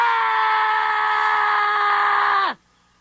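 A person screams in one long, loud, sustained cry lasting more than two seconds, heard alone before it cuts off sharply into silence.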